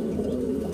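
A pigeon cooing close by, a low soft throaty coo held steadily through a short moment with no other sounds around it.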